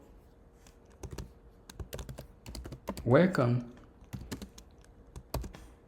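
Keys clack on a computer keyboard while a Linux Bash shell script is typed, making sharp, close, irregular taps spread across the whole stretch, with a short spoken word breaking in near the middle.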